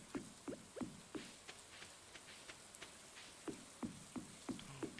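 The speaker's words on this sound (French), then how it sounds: "une pluie verte s'est installée dans la vallée." Green rain falls in the farming video game Stardew Valley, giving a faint steady patter with soft, irregular droplet taps scattered throughout.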